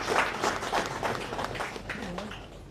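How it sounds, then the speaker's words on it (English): Audience applause fills a conference hall at a Sierra Leone maritime university board meeting, a steady, fairly loud clatter of clapping that gradually thins toward the end. "So shall we please give a round of applause to them."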